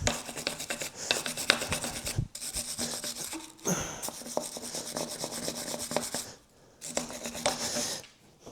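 Old gasket sealer is scraped off a Steyr T80 tractor during a water pump job, a close, rough rasping in repeated strokes with short pauses between them.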